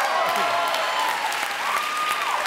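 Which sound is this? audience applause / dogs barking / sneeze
audience applause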